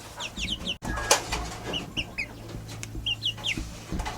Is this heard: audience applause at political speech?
no